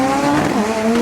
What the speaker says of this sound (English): All-wheel drive four-cylinder in the left lane. The big bad V8 in the right lane.